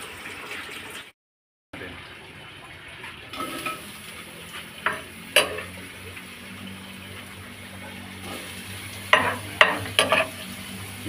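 Native chicken sautéing in a pan for pinikpikan, with onion and ginger, gives a steady low sizzle with scattered clinks and scrapes of a utensil stirring against the pan, plus a brief dropout near the start.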